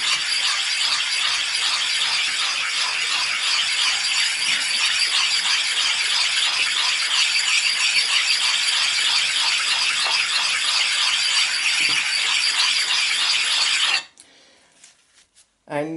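Hand polishing with a coarse, thick grinding paste, a loud close rhythmic rasping scrub of repeated back-and-forth strokes that runs for about fourteen seconds, then stops abruptly into near quiet.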